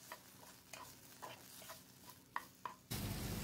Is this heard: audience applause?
no